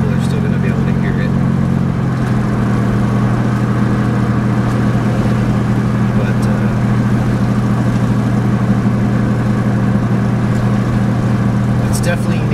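A supercharged 2001 Toyota 4Runner fitted with a DynoMax VT exhaust idles with a steady, deep low drone that shifts slightly in pitch after about two seconds, while someone talks over it.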